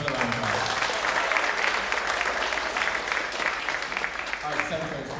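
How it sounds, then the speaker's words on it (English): Sustained audience applause fills a school world percussion spring concert, steady and dense from start to finish, with some crowd noise mixed in. "Give another round of applause."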